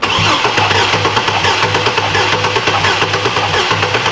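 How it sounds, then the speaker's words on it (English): A car engine cranking over on the starter with the throttle held open during a compression test, a loud, close, rhythmic chugging that stays steady throughout without catching. "cut the key on, Yeah. pedal to the plastic, throttle's open, crank it up"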